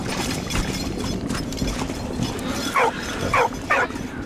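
Dog barks and whimpers from the Valiant Hearts video game, three short yelps near the end over a steady game background.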